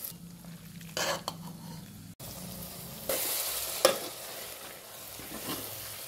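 Mixed vajdi already cooked with turmeric and salt is sautéed with red chilli powder in a pan, producing an uneven sizzle broken by a brief pause, sharp stirring scrapes and a louder hiss as frying resumes.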